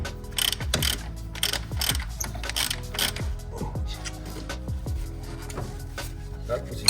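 Ratchet wrench clicking close up while nuts come off the suspension of a VW Passat B4, a steady run of sharp, rapid mechanical ticks at moderate volume with no talk.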